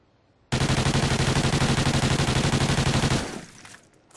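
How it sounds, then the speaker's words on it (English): A Vepr submachine gun in Call of Duty: Ghosts is hip fired in one long continuous burst, a loud, rapid, even stream of shots lasting nearly three seconds before it cuts off and tails away. "So we're going to go ahead and hip fire it and then aim down sights."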